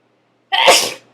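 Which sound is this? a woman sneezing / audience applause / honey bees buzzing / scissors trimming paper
a woman sneezing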